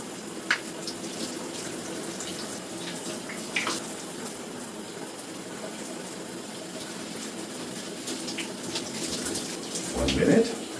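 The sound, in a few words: shower water running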